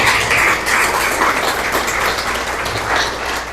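Congregation applause for the Lord in the middle of a church sermon, a steady, fairly close wash of clapping with gentle rises and dips, lasting a few seconds.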